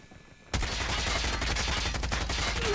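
A rapid burst of hip-fire gunshots from a weapon in COD Mobile starts abruptly after a quiet half second and rattles on continuously, loud and close.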